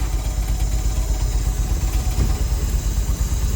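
A Bayliner boat engine with electronic ignition in place of points runs steadily at a loud, even idle, its low rumble filling the whole stretch close by.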